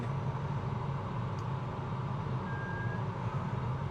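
Steady road traffic on a street in Paphos, Cyprus, a continuous low rumble of passing cars and trucks at midday with a brief faint beep partway through.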